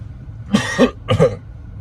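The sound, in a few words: cough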